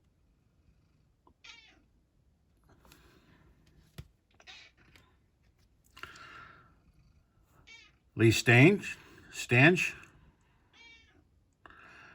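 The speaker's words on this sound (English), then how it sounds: "and that's my cat in the background." A pet cat meows insistently for food, several clear calls, one pair loud and close, cutting in between stretches of someone talking and faint keyboard-like clicks.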